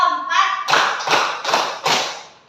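Sharp hand claps ring out close by in a counted rhythm, one clap, then a pause, then three more claps.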